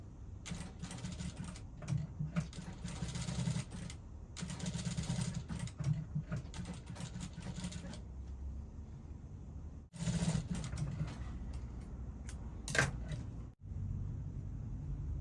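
Sewing machine stitching a yoke onto the neckline of an Ankara bustier dress, a steady close mechanical whir running in long stretches, briefly stopping and restarting, with no talking.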